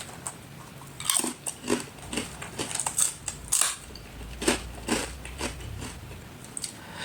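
Crunchy bites of dense, crispy seblak kencur crackers seasoned with chili and lime leaf, a rhythm of sharp close-up crunches and chewing repeating every half second or so, with no talking.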